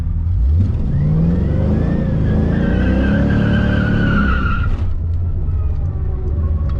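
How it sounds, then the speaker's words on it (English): An LS-swapped 1988 Firebird on street tires lays down a burnout: a loud engine roar rises as the tires spin and squeal for several seconds, then cuts off abruptly into a steady idle. "But we'll do a little burnout"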